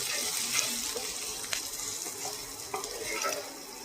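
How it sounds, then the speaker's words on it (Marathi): Onion sautés in a pan for dried bombil masala, a continuous hissing sizzle with intermittent spatula scrapes and light knocks, close and alone without talk. "आणि हे असं आपण परतून घेऊ. आता हे लाल होईस्तोपर्यंत, गुलाबी रंगापर्यंत येईपर्यंत आपण परतून घेऊया."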